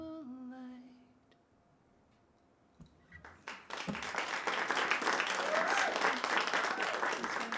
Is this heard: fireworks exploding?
no